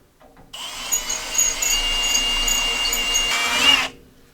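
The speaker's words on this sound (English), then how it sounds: "drill the hole" A power drill whines at high speed for about three seconds, drilling a hole for a rivnut, its pitch rising slightly as it bites through material, then stops abruptly.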